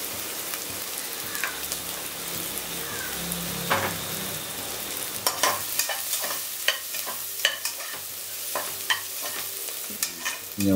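Ingredients for a Mudavattukal Kilangu soup sautéing in a pan, with a constant crackling sizzle and irregular spatula scrapes and taps that grow busier toward the end, close and moderately loud, with no voices.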